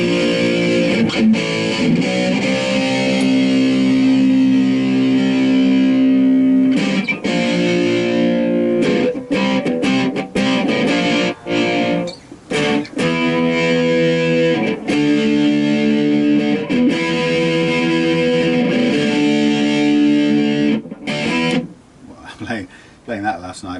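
Yamaha SG2000 electric guitar played through reverb and heavy distortion, sustained chords and riffs ringing loudly and continuously with brief gaps, a voice speaking over parts of it.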